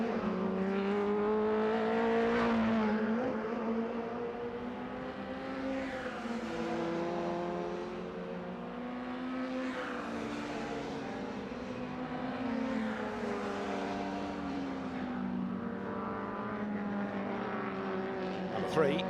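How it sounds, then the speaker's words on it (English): An MRF Challenge race car accelerating toward the end of a lap during free practice, its engine note rising and falling through repeated gear changes under continuous commentary. "Schumacher accelerating his way towards the end of the lap."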